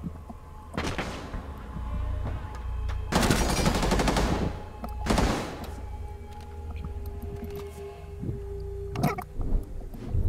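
Gunfire in Rainbow Six Siege, a few loud, close bursts of rapid shots separated by quieter stretches of game ambience and low rumble.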